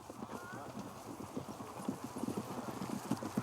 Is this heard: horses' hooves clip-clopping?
yes